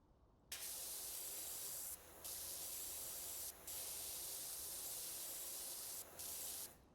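Pressure washer in a video game spraying through the white nozzle, a loud steady broadband hiss that cuts out briefly three times before resuming, with no voices.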